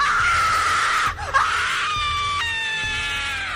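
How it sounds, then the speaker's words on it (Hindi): A witch screams loudly after being stabbed in a horror story, a long piercing wail that dips into a strangled cry partway through, then rises again into sustained shrill, layered shrieking. "जो ही वो खंजर डाइन को लगता है, डाइन जोर जोर से चिल्लाने लगती है।"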